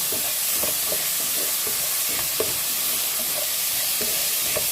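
Onions, tomato, garlic, ginger, green chilli and salt frying in a pan, a dense, loud, continuous sizzle with the rhythmic scrape of stirring cutting through it, heard close with no talk.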